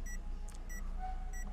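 A Chevrolet Onix's parking sensor beeps while reversing, three short, evenly spaced electronic beeps over a quiet car interior hum.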